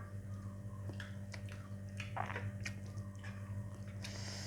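Quiet chewing and soft biting on grilled tilapia stuffed with herbs and seasonings, eaten by hand around the bones, a few close wet munches over a steady background hum.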